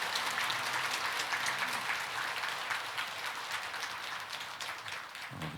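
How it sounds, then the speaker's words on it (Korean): Sustained applause from an audience honoring monks at a Buddhist ground-dharma ceremony, dense steady clapping filling the whole stretch at even loudness before tapering slightly at the end. "먼저 이렇게 먼 곳까지 강원도 삼척에서 땅설법을 해주시기 위해서 오신 우리 스님과 사부대중께 큰 박수 부탁드리겠습니다."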